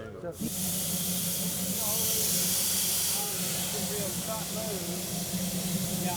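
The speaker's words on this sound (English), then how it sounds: "Danny, if you could bring in your mini blower here just to kind of smooth this out to the mouth of the cave" A small handheld mini blower runs on a film set at a cave mouth, giving a steady, loud hiss of rushing air that starts abruptly and holds constant, with a low engine-like hum underneath and faint background voices.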